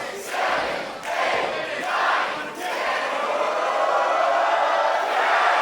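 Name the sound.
raucous wrestling crowd counting along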